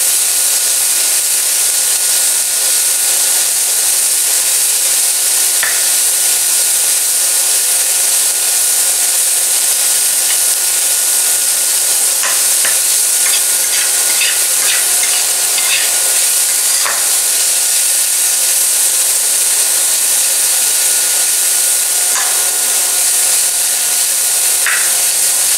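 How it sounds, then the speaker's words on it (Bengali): Bitter gourd fries in hot oil in a pan, giving a loud, steady sizzle and hiss throughout, with occasional faint scraping clicks from stirring. "উচ্ছেটা ভালো করে নাড়াচাড়া করতে করতে লাল হয়ে আসবে।"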